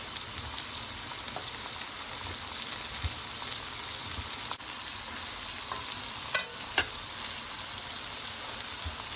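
A steakhouse-style pork chop fries in a pan on a stove set to medium high, giving a steady, close crackling sizzle throughout, with a couple of brief sharper pops toward the end and no talking.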